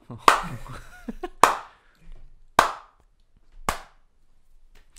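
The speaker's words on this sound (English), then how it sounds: "And Clap" Four sharp, loud single hand claps spaced about a second apart on a podcast set, each a crisp slap with a short decay, with brief talk and laughter before the first.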